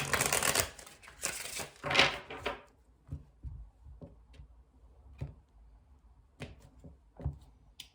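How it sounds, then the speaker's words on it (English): A burst of tarot card shuffling up close for about two seconds, followed by quiet scattered taps and clicks of cards being handled. "Okay, we'll do one last shuffle."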